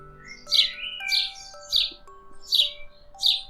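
Small sparrow chirping in five clear, evenly spaced bright calls, close and fairly loud, over a soft steady tonal background with no talking.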